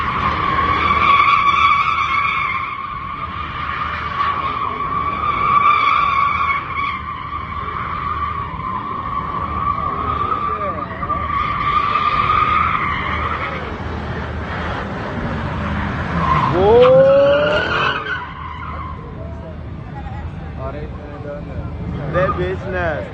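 A Dodge Daytona Hemi at a street car meet skids with long, loud tire squeals over a roaring engine, and a sharp screeching sweep near the end; crowd voices talk and shout throughout.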